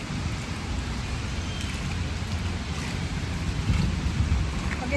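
Steady rainfall patters down outdoors, a continuous broadband hiss with low rumbling and occasional heavier bursts toward the end, with no voices.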